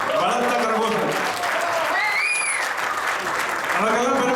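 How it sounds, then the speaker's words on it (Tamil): Loud, dense applause from the audience for a poet at a Tamil New Year celebration in Changwon, a continuous roar of clapping with voices mixed in throughout. "இன்னொரு முறை பலத்த கரகோஷம்"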